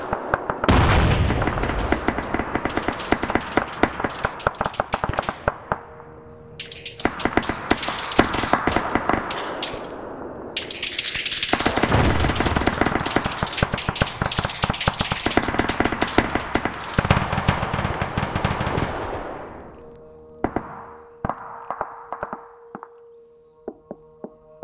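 Sustained automatic gunfire in a tactical military shooter game comes in long, dense rapid bursts with brief gaps. It ends with scattered single shots, loud and close.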